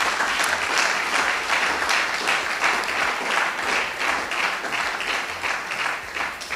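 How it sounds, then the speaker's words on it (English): Sustained applause from an audience at a student induction ceremony, a steady dense wash of clapping hands that holds at an even level throughout with no talk over it. "Please, a round of applause."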